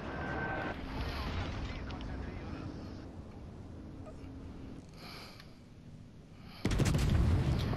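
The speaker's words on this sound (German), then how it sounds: "Jetzt schieße ich mit AP, weil der ist ja von der Seite weich." Naval artillery firing armor-piercing shells in World of Warships: Legends, a loud deep blast near the end following a steady rumbling battle ambience, with someone talking over much of it.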